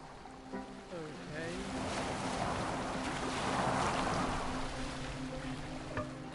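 A boat sails across open water in Assassin's Creed Valhalla, with waves sloshing and wind rushing in a steady wash that swells midway, under voiced dialogue.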